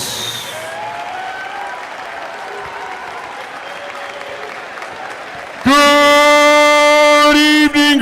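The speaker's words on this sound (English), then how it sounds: "a big round of applause. Give a standing ovation, ladies and gentlemen" Audience applause rings out in an arena at a national short course swimming championship in Greensboro, a steady loud wash of clapping across the whole stretch, ending in a sudden loud blast of sustained tones.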